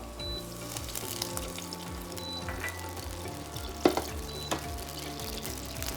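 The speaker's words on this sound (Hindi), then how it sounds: "हरी मिर्च के बाद इसको चूल्हे से हटाएं और डाल दें सिरका।" Vinegar poured into a smoking hot pan with green chillies, a sustained watery sizzle and hiss with small crackles and a few sharper pops, close and steady, no talking.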